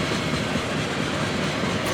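A Norfolk Southern freight train passes close by on the tracks in Columbus, Ohio, a loud continuous rumble of rolling wagons with rhythmic wheel clatter and no talking.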